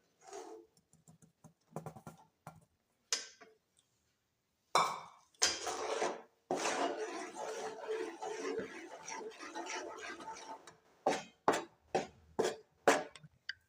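Karadantu dough being mixed in a metal vessel, irregular clanks, scrapes and knocks of utensil against the vessel, sparse at first, then a dense stretch of scraping and several separate sharp knocks near the end, with no talk.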